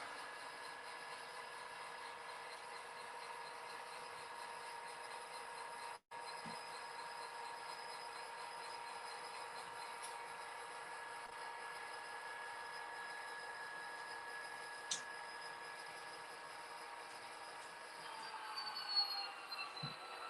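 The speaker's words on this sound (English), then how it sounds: "tonight's locomotive is the recently delivered Athearn Genesis GP39M" An Athearn Genesis GP39M HO-scale model diesel locomotive switches cars on a layout, giving a faint, steady mechanical hum and rolling noise with a few small clicks and squeals, and no speech.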